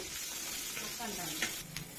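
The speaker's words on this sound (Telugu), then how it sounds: "అదే కళాయిలో మళ్ళీ నేను ఒక స్పూన్ ఆయిల్ వేసుకున్నాను ఆ తర్వాత కొంచెం జీలకర్ర ఒక ఉల్లిపాయ కట్ చేసి వేసుకున్నాను ఇవి బాగా వేగాలి" Chopped onion and cumin seeds fry in a spoonful of oil in a kadai for a baby corn masala curry, giving a steady, close, fairly loud sizzle with a few stirring scrapes.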